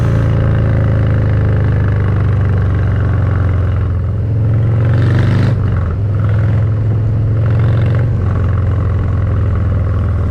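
A Harley-Davidson Softail Heritage Classic 114 motorcycle accelerates while riding, its loud, deep exhaust rumble droning continuously up close, with a brief swell midway and no talk.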